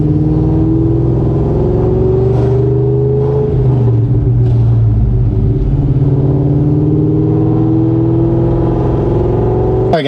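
A Ford Mustang Terminator Cobra engine idles on its own, a loud, steady, close rumble with a smooth droning tone that shifts slightly in pitch partway through, with no voices over it.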